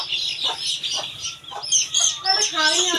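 Several farm chickens cluck and chirp in short, uneven bursts nearby, with people talking in the background.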